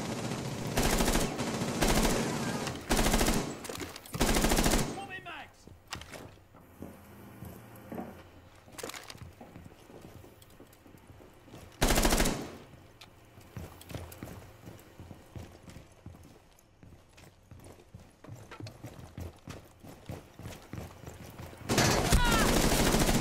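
Gunfire crackles in the video game Rainbow Six Siege, with loud rapid bursts at the start, a single sharp burst midway and another at the end, separated by quieter stretches of game ambience.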